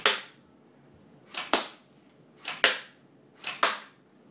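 An airsoft Mag 9 gun fires four sharp semi-automatic shots, evenly spaced about a second apart, each a crisp snapping pop with a brief tail, heard close and alone.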